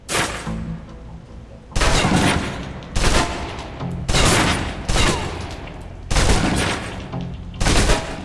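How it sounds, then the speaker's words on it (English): A submachine gun in the game Alpha Protocol empties its clip in about six loud, rapid bursts of automatic fire, separated by short gaps. "on to the submachine gun. Now let's empty the clip."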